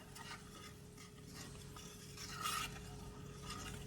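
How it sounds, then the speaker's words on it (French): Spoon stirring a honey sauce reducing over high heat in a pan with duck breast, soft repeated scraping strokes over a faint sizzle, quiet and close with no talk. "Je viens mélanger et on va laisser réduire à feu vif"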